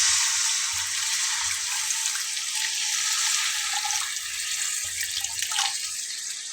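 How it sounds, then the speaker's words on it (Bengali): Water poured into a pan of well-cooked spice paste, giving a steady, close hiss of running liquid with a faint sizzle underneath that eases slightly toward the end. "তো আমি এখন এর ভেতরে পানি অ্যাড করব।"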